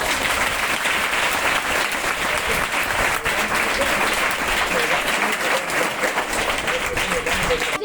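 Children clapping steadily and loudly for visiting guests at an ashram school gift distribution, a dense continuous applause lasting throughout with no pauses.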